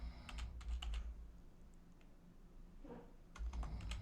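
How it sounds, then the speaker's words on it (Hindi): Quiet bursts of computer keyboard typing, keys clicking in quick clusters at the start and again at the end with a lull between, as a plugin name is entered into a search box. "तो यहाँ पर लिखेंगे एलिमेंटर।"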